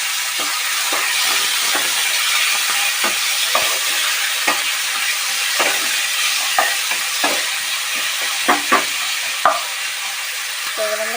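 Chopped green chilli, onion and tomato fry for bhindi masala in a steady loud sizzle, with repeated close spatula scrapes and taps as the pan is stirred and no talk.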